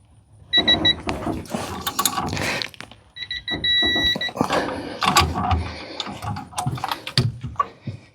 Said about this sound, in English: use the torque wrench to tighten it down to 40 foot-pounds